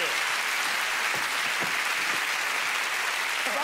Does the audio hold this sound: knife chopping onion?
no